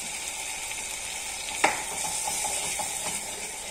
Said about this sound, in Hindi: अब इस तड़के में हम दो चम्मच फ्रेश क्रीम भी ऐड करेंगे